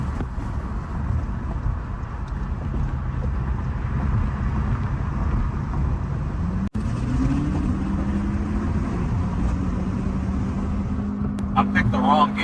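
A 2024 Volkswagen Jetta GLI (MK7.5) on the move, with a steady low engine rumble and wind noise that rises into a climbing tone as it accelerates partway through, and a sharp click in the middle.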